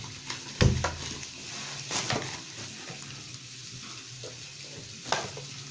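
Pure butter sizzles steadily in a hot pan at a barbecue burger stall, a close, continuous frying hiss broken by a few sharp utensil knocks against the metal.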